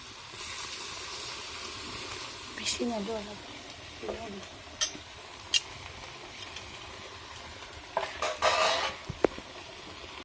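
Water splashed into a pan of sizzling fried onion, garlic and spices bursts into a loud hiss near the end, after scattered clinks of utensils and stirring, with a voice speaking quietly between.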